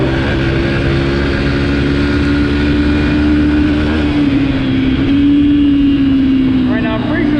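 A 2022 Yamaha TTR 125 LE dirt bike engine buzzes loudly and steadily on a top speed run, its pitch rising and falling slightly, with wind noise and a rider's voice mixed in.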